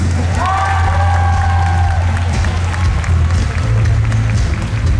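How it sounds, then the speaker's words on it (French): Steady applause from an audience fills the space, with a whoop rising briefly over the clapping near the start. "Alors, ce n'est pas Milou, mais on va faire un tonnerre d'applaudissements pour Lilo Chris."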